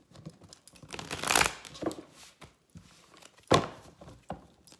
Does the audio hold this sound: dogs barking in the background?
no